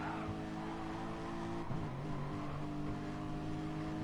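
Race car engine in Gran Turismo Sport, a steady harmonic drone that dips in pitch partway through as the driver backs off the throttle, then holds a lower, even tone.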